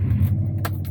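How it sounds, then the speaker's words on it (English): A Subaru Forester's engine cranks and catches, a low idling rumble that runs steadily through the whole second, with a couple of brief bright clinks like keys jangling near the ignition. "It started so fast!"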